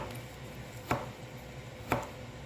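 A knife chops edible seaweed on a cutting board in two sharp, separate strokes about a second apart, each followed by quiet background hum.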